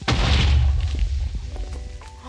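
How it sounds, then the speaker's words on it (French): A creeper explosion in the Minecraft video game: one loud, close boom with a sharp onset that rumbles and decays over about two seconds, with no talk over it. "Ça explose."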